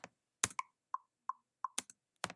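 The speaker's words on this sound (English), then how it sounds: "This is the metronome, which sounds like this." Logic Pro X metronome ticking, a sparse run of sharp, dry clicks with higher accented beats, quiet and alone.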